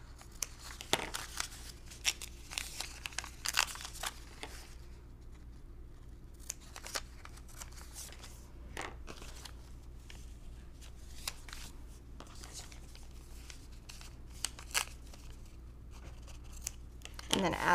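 Scissors snipping slivers off the edges of a fabric quilt block, clusters of crisp close cuts and rustling fabric between quieter pauses over a low hum, with faint speech nearby.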